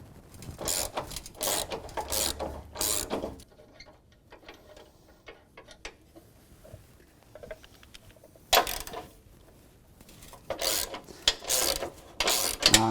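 A ratchet clicks rapidly while loosening bumper fasteners on a 2017 Ford Raptor, with close bursts of ratcheting at the start and end separated by quieter handling noises.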